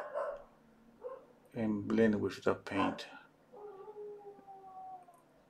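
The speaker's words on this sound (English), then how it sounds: "Can you hear my dog? She's crying." A dog cries and howls nearby in drawn-out, wavering whines, loudest in a rising burst midway and trailing off into a long thin howl, with a person speaking softly before it.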